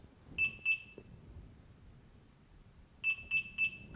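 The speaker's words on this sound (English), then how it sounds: "wait for 3 beeps" A v2 alarm receiver gives two short high-pitched beeps, a pause, then three more evenly spaced beeps, clear against a quiet background.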